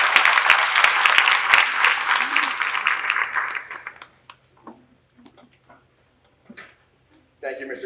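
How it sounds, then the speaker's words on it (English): Audience applause at an elementary school's 50th anniversary celebration, loud crowd clapping for about four seconds that fades out, followed by scattered claps and a voice speaking at the end. "Can we have a round of applause for Mr."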